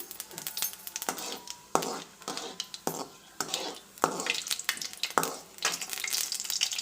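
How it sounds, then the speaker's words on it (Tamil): Whole spices sizzle and crackle in hot oil, with scattered clinks of a spoon against the pan. "இதை போட்டு இப்போ நம்ம தாளிச்சிக்கலாம்."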